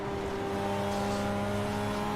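Stock 276-horsepower Japanese race car in Gran Turismo powering out of a corner behind a Supra, a steady, loud engine drone with sustained harmonic tones throughout, no talk.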